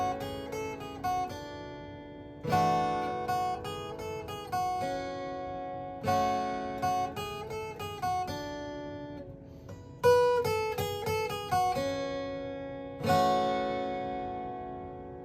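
Guitar riff of plucked and fretted notes, clear and close, repeating in phrases with pauses and restarting patterns, played alone without talk.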